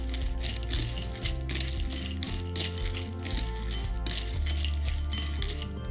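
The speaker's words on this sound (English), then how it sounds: "I'm just gonna grab the spoon that we had in the supply list and give it a stir" A spoon stirs s'mores trail mix in a bowl, with a continuous jumble of small clinks and rattles as the pieces knock against the dish, close and fairly even.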